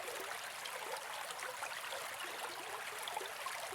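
A river's water flowing gently, a soft, continuous wash of trickling and burbling with no voices, steady and fairly quiet throughout.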